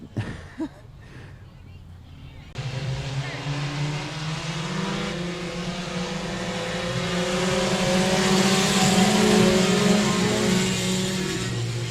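A pack of 4-cylinder race cars roars around a speedway in a heat race, engines droning steadily and building louder as they pass, with a commentator talking over them.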